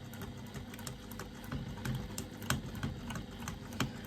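A sewing machine stitching a wallet's pocket lining at a 3/8 inch seam allowance, giving off quiet, rapid, rhythmic ticking with soft mechanical clatter.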